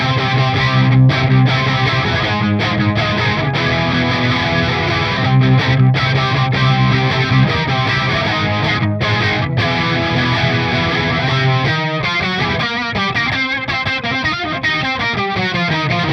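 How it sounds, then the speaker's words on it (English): A sustained electric guitar played through a Boss MO-2 Multi-Overtone pedal with heavy distortion, thick buzzing chords ringing continuously and loudly, shifting to choppier notes near the end. "And now I'm going to get a little bit of distortion on that sound."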